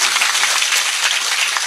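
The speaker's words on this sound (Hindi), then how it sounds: "इन्हें जोरदार ताली बजा करके साधुवाद दो।" An audience applauds at an Independence Day event, a steady dense wash of clapping heard at moderate distance with no talk over it.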